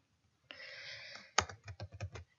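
Keys on a computer keyboard clatter in a short burst: one sustained press, then a sharp tap followed by a quick run of about six close, distinct keystrokes in an otherwise quiet room.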